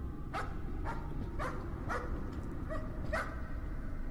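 A dog in the horror video game Layers of Fear barks six times in an even rhythm, each bark sharp and moderately close over a steady low rumbling background, with no talk.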